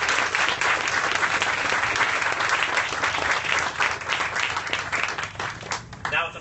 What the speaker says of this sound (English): I think that deserves a great round of applause